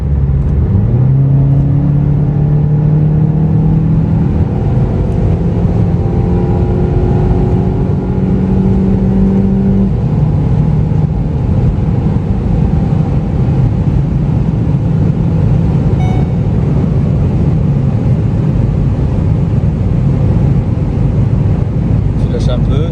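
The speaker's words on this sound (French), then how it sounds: "regarde bien le bruit du moteur" A Volkswagen Golf 7 GTI on winter tyres accelerating on an unrestricted German autobahn, engine note rising steadily through gears with a loud, continuous drone and road and wind rumble throughout.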